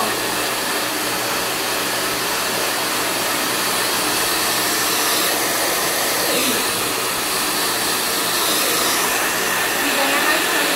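A hair dryer blows hair dry while it is brushed out, a loud steady whooshing hum filling the whole stretch without a break.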